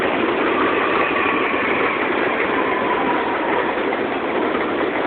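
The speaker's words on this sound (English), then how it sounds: "And there goes train number 5." A New York subway number 5 train pulls out of the station, its engine and wheels producing a loud, steady rumbling roar that continues without a break.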